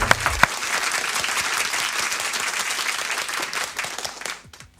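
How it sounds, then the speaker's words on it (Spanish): A studio audience on a Spanish television programme breaks into dense, sustained applause, with a few sharp claps at the start and the clapping fading away after about four seconds. "Y le damos un aplauso a Mario también por estar en All You Need Is Love."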